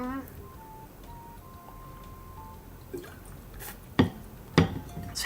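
A little water poured to drink, heard as a few faint drips and gentle liquid sounds, then a couple of louder glassy clinks and sips close by, over a quiet background.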